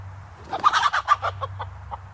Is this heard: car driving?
no